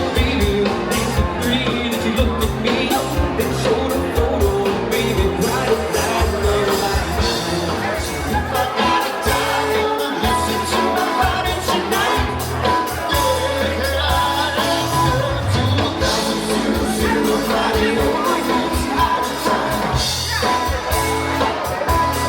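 A big crowd at a live band gig fills the whole stretch, with a dense, continuous roar of chatter, shouts and whoops blending into loud ambient noise.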